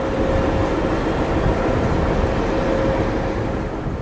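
The diesel locomotive of the Mahananda Commuter train, hauling vacuum coaches between Khulna and Jessore in Bangladesh, gives a loud, steady engine rumble and a constant hum at close range, with no break.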